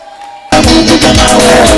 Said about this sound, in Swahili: Chapa makofi na vigelegele kwa Yesu.